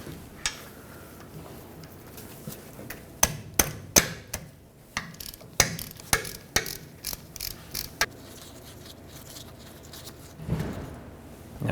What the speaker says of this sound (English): We'll use a 3/8 drive extension or directly the ratchet to remove this plug